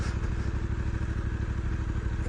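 A Voge DSX 900 motorcycle engine lugging along at low revs in third gear: a deep, steady, throbbing pulse close up, continuous with a faint mechanical clatter.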